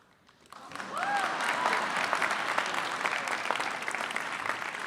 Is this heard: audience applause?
yes